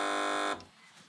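A single loud, harsh quiz show buzzer blares for about half a second and cuts off abruptly, leaving quiet room tone.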